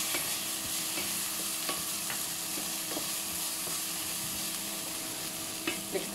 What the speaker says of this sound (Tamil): அதுக்கப்புறம் இந்த பட்டாணியை போட்டு வதக்கிக்கலாம்